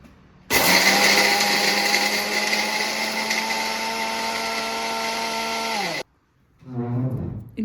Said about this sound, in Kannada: ಇದೆಲ್ಲ ಮಿಕ್ಸಿಗೆ ಹಾಕೋಬೋದು